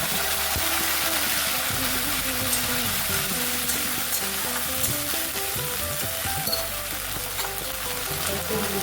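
A paste of ginger, tomato, green chili and garam masala fries with already fried garlic in a pan, giving a dense continuous sizzle with low stirring scrapes throughout, close and loud without talk.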